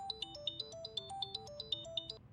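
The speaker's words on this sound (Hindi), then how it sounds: "अम्मा ये कौन टोपा फोन कर रहा है हमको?" An incoming-call ringtone plays a repeating electronic melody of bright, evenly spaced notes, fairly quiet and alone with no talking.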